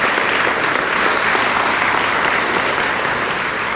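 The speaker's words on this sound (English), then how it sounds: "You can give them a round of applause if you want." An audience at a teacher awards event gives a round of steady, full applause that stays even throughout.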